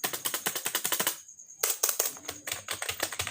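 Fast typing on a budget Prodot keyboard with normal, noisy switches, a close, loud run of sharp key clacks that pauses briefly and then resumes in quick bursts.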